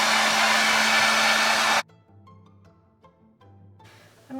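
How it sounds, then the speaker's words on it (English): Hair dryer blowing on wet latex paint, a loud steady whoosh with a high whine that cuts off abruptly after under two seconds, followed by faint clicks and handling, then a brief restart at the end. "I'm going to take my hairdryer again, because you'd never want to paint with wet latex."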